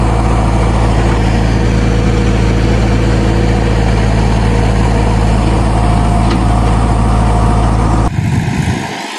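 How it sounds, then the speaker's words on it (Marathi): Heavy machine engine running steadily and loud while filling a building foundation with murum gravel, a constant droning rumble with faint clanks that drops away sharply near the end. "आता मशीन आलेली आपल्या फाउंडेशनमध्ये मुरम भरायचा चालू आहे आता"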